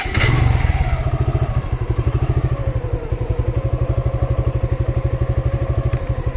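A motorcycle fitted with a remote control security system starts with a loud initial burst, then settles into a steady, rapid close-up idle that thumps evenly for several seconds.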